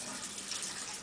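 Water runs from a tap in a steady, even hiss and splash, fairly quiet and unbroken for a brief moment.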